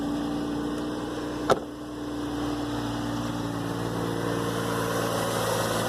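A GMC Envoy SUV engine idles steadily and low in park at close range after transmission repair, with one brief click or knock near the start.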